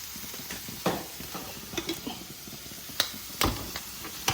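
Chicken curry being stirred in a sizzling pan, with a soft steady fry under scattered sharp scrapes and clinks of the spoon against the metal.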